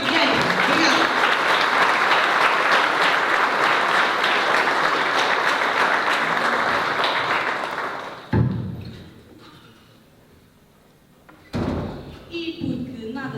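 An audience at a cultural evening celebrating an association's anniversary applauds a guest, dense sustained clapping for about eight seconds before cutting off, followed by thumps and a voice speaking.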